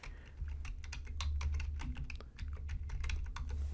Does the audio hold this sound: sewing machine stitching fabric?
no